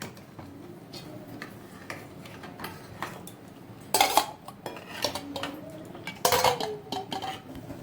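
Boiled eggs and potatoes are lifted one by one from a pot, with scattered metal clinks and scrapes of a utensil against the vessel and two louder clattering bursts, close and without talk.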